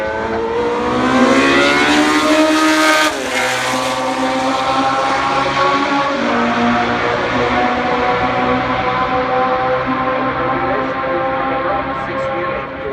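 The Tyrrell P34 six-wheeled Formula One car's engine at Suzuka Circuit makes a loud, high-revving racing wail, rising through gears with a brief dip near the third second, then holding a strong, steady tone.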